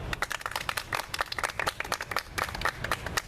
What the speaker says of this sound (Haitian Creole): Applaudissez nous.